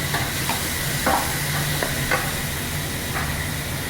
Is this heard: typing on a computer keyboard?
no